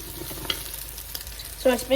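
Green beans frying in a pan are stirred, soft scraping and clinking of the utensil over a gentle sizzle, quiet and close, with a brief sharper scrape near the end.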